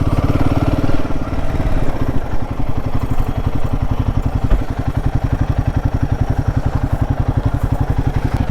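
Royal Enfield Himalayan 450 motorcycle on a long ride, its exhaust note a steady, close, loud low thumping pulse that holds a constant rhythm throughout, with no talking.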